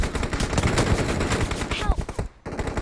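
Rapid bursts of automatic gunfire in the BGMI battle royale game, dense and loud, dropping briefly near the end before resuming, with talk mixed in.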